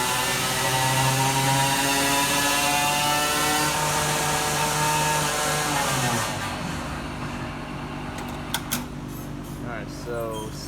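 A motorized bicycle engine runs on a dyno with its air filter removed, revving loud and close with a rising, buzzing whine, then dropping off to a rougher idle near the end.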